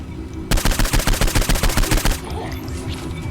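Rapid automatic gunfire in the video game Saints Row IV rattles out as one fast, loud burst of about fifteen evenly spaced shots lasting under two seconds. Quieter game ambience continues after it stops.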